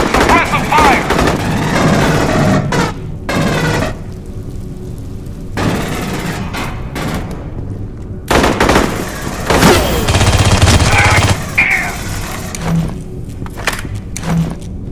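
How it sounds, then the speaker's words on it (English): Suppressive automatic gunfire from the Colonial Marines in Aliens: Colonial Marines, loud, close bursts that stop and start in choppy clusters over a busy combat backdrop. "Suppressive fire!"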